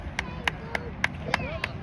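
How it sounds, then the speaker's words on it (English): A lone audience member at a flag football game claps six sharp, evenly spaced times, moderately close, over a quiet background of crowd murmur. "we have someone in the audience who's still applauding."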